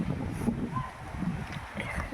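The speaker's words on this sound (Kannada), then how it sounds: "ಇಲ್ಲಿ ಧೂಳು ಮತ್ತು ಗಾಳಿ ಸಿಕ್ಕಾಪಟ್ಟೆ ಇದೆ ಇಲ್ಲಿ" Strong, dusty wind in a park in Israel buffets the microphone outdoors, giving a low, continuous rumbling roar with faint background sounds.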